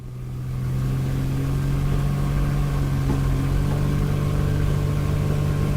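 Light aircraft named Gram powering up its engine for the takeoff roll, a loud steady droning hum that swells in the first second and then holds, with no talk.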